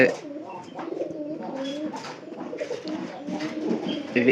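Pigeons kept in a home loft coo nearby in low, rolling, repeated calls that overlap one another and continue throughout.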